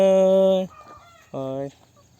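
Two drawn-out hen calls, loud and close, the first longer than the second, with a brief quiet gap between them.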